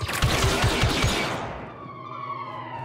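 A heavy weapon in Star Wars Battlefront II fires a rapid burst of about six close, punchy shots, then gives way to ringing, whining game tones that fade out.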